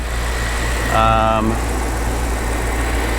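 A 2007 BMW X5 engine idles in a steady low rumble throughout, with a person talking briefly over it near the start.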